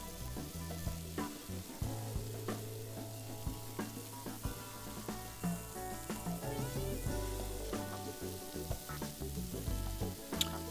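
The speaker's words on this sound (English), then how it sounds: "So we're trying to get a good sear." Beef pieces seared in hot olive oil in an uncrowded pan, a bright crackling sizzle with scattered spits and pops, fairly close, against a low background hum and tonal clutter, no speech.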